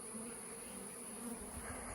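Honeybees swarming around newly mated queens at the hives during queen replacement, a close, steady droning buzz that carries on alone without pause.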